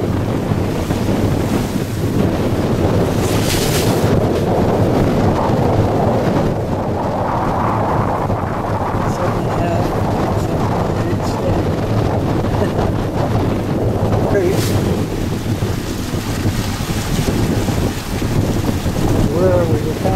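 A sailboat runs at high speed with the wind on its beam. Loud, steady wind buffets the microphone over rushing waves and hull wash for the whole stretch, with no talk.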